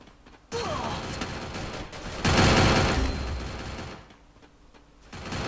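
Rapid gunfire from the mobile shooter game Free Fire, including shotgun fire, comes in loud sustained bursts with a dense fusillade in the middle and quieter stretches between, no clear talk over it.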